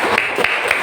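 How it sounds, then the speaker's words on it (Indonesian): Short burst of applause for a student group in a classroom, a few scattered claps standing out over a steady wash of hands, fairly close and alone without talk. "Tepuk tangan untuk kelompok"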